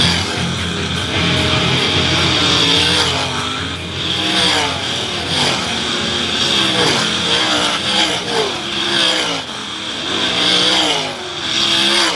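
World of Outlaws sprint cars racing in a Last Chance Showdown at Attica Raceway Park: loud, continuous engine roar with revs rising and falling as the cars pass, a dense, sustained wall of noise.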